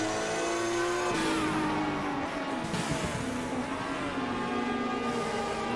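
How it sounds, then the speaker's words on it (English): Group 5 race cars in the Automobilista racing game echo around a street circuit, engines revving loud and continuous with gear shifts and pitch changes throughout, no talking. "You can hear the cars echoing all around this kind of street circuit."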